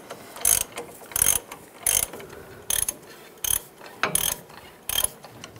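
A ratchet tightens wheel hub bolts on a 2011–2018 Ram 1500, seven short sharp bursts of clicking at a steady rhythm, close and alone.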